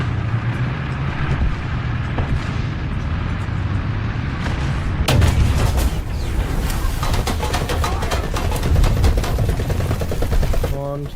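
Rapid gunfire in the Ace Combat video game, with loud, dense bursts of machine-gun fire over a steady roar of engine noise, the firing growing sharper and more continuous partway through, with no talk.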